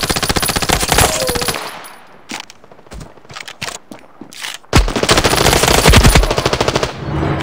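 Automatic gunfire in the mobile shooter game Standoff 2, with loud, rapid bursts at the start and end and scattered single shots in a quieter middle stretch.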